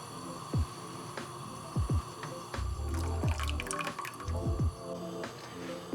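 Poblano salsa for chilaquiles simmers in a pan, faint bubbling pops and drips over a steady background hum, quiet and close with no voices.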